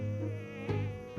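Mosquitoes swarming at a wedding give a steady, close whining drone of high insect buzzing, with a brief swell partway through and no voices.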